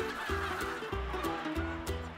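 Native Korean chickens cluck in a farmyard on a drizzly morning, a nearby flock making repeated rhythmic, throaty clucks and short calls that overlap one another at a moderate, steady loudness.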